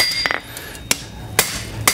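A hammer strikes a copper spatula on an anvil in four sharp, ringing blows spaced about half a second apart, close and loud, with quiet between them and no talk.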